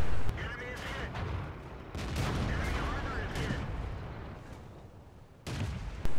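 Tank gunfire in a video game, several sharp booming shots spread across the stretch amid rumbling battle noise and engine drone, mixed with game sound effects.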